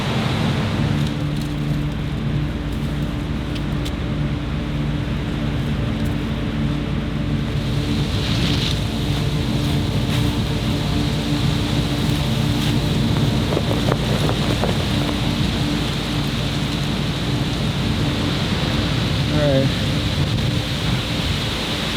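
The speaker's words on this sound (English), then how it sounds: "It's definitely raining out here." Rain falling steadily at night on a shipwreck island, a dense continuous hiss with wind buffeting the microphone and a low rumble underneath, loud and unbroken throughout.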